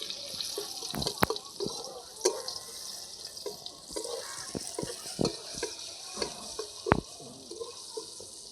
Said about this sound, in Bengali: তারপর পাট শাকটা এর ভেতরে দিয়ে দেবো।